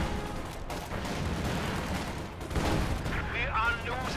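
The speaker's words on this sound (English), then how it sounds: "Anti-infantry strafe coming in on these squads." Sustained distant gunfire and rumbling explosions from an anti-infantry strafe in a real-time strategy game battle, with a denser burst near the end.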